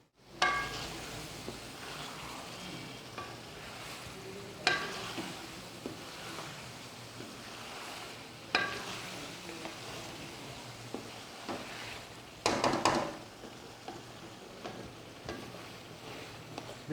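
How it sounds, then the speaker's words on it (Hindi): Tomatoes frying in a pan for a pumpkin and chicken dish, a quiet steady sizzle broken by a few distinct scraping stirs and clatters of a spoon against the pan, with no voices. "टमाटरों को मैं थोड़ा सा भून लूँ"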